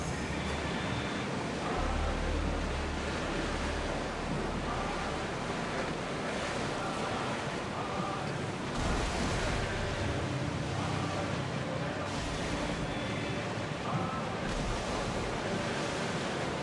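Open-sea waves in Assassin's Creed Odyssey wash steadily and fairly loud with wind, the surf surging in slow swells throughout, no voices present.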